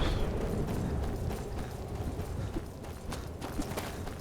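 Rhythmic horse hoof clip-clops thud steadily in Skyrim over a dense rumbling game soundscape, with no talking.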